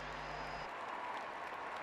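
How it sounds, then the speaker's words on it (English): Stadium crowd applauding during a morning Paralympic athletics session in London, a steady broad wash of clapping off to one side, moderately distant and continuous throughout. "The applause away to our right is for Thank you. Kieran Duke"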